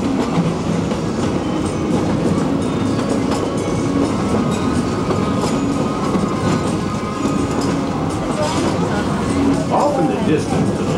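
A Walt Disney World Railroad train rolls along its tracks in June 1992, a loud, steady rumble with rhythmic clickety-clack of wheels and faint squeals, heard from on board.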